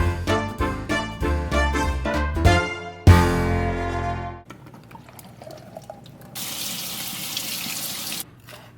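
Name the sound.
water draining from a kitchen sink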